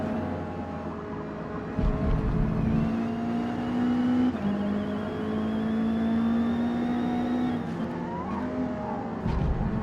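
'89 Toyota MR2 racing in Forza Motorsport at the Nürburgring, the engine droning and revving steadily through gear changes, a close continuous whine that rises and dips with brief breaks at shifts.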